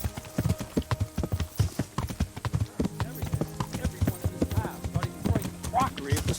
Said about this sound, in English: It's a beautiful horse, but whose horse is that?